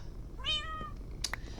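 A cat meows in a video game, a single faint rising-and-falling mew followed by a couple of short clicks over a quiet background.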